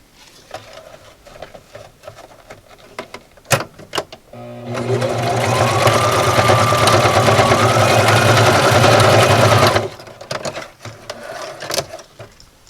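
Sewing machine stitching elastic belting onto a showgirl costume, a steady loud run of about five seconds between quieter handling clicks and thumps before and after.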